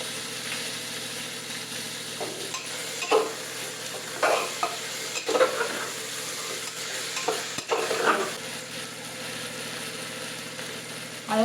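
Tomatoes, potatoes, fresh peas, coriander, turmeric and biryani masala sauté for masale bhat, a steady close sizzle under repeated scraping stirs with a spoon, no talk.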